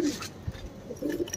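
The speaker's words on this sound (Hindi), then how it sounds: "ये बाहर की कबूतर है, बाहर की भोपाल की" Soft, low coos from a female pigeon sound in short bursts, close by, over faint background noise.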